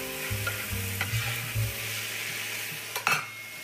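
Broccoli stems hit a hot pan and get stirred, a close, steady sizzle with a few sharp spatula scrapes and knocks against the pan, no voices.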